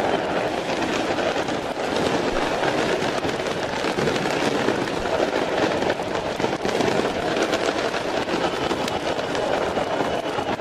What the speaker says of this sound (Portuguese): Com fogos de artifício.